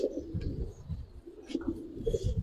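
Kaldam pigeons offered for sale coo close by in low, repeated throaty phrases, with a few faint higher chirps above them.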